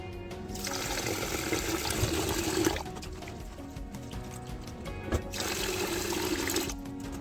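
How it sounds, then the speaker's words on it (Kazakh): Bubbling, rushing water in a large cauldron for plov, boiling vigorously in two long surges with a quieter stretch between, no voices. "Қазанымыз қайнап тұр."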